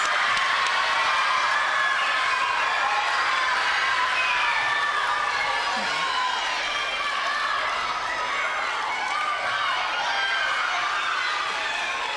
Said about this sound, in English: a round of applause for these fifth graders